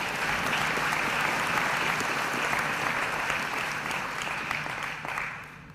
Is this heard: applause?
yes